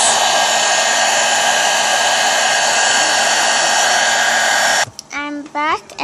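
A close, loud hair dryer blasts continuously while drying paint on a customized toy figurine, then cuts off abruptly near the end, followed by a few brief vocal sounds.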